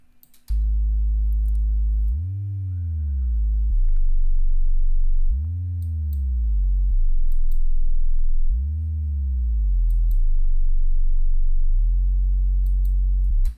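Synth notes made in FL Studio Mobile for Hans Zimmer style cinematic music, sustained tones that bend upward about an octave and fall back. Three loud sliding swells repeat over a steady low drone, with no talk.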